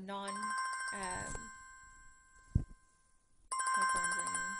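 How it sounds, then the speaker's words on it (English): A mobile phone ringtone plays as a bright, melodic repeating tone. It breaks off, a short thump follows after a gap, then the ringtone starts again loudly. "My phone started ringing."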